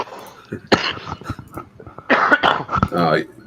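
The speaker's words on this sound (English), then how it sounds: "I just have coughing fits whenever I laugh" Several harsh, bursting coughs from a person with a bad cold break out between stretches of talk, coming in quick clusters near the microphone.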